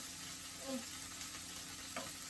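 An egg frying in a pan for a Hawaiian loco moco, a steady soft sizzle running throughout with a few faint utensil clicks, close and fairly quiet.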